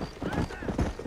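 Horse hooves clip-clopping at an easy pace in the Red Dead Redemption video game, a quick cluster of close hoofbeats with a faint whinny-like tone over brief game chatter.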